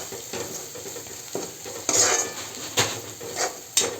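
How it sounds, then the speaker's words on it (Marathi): Shredded cabbage with salt and turmeric is stirred in a hot pan, a spoon scraping and clinking against the metal in several distinct strokes over a light sizzle. "मिक्स करून घेऊया।"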